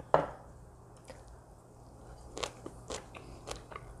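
A bite into a kale-leaf wrap holding soft tofu, crunchy nuts and vegan ssamjang sauce gives one sharp crunch, then a few quieter chewing crackles close to the mic, with no talk.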